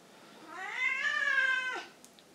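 A single drawn-out cat meow rises and falls over about a second and a half. It is close but fairly quiet, and no voices are heard.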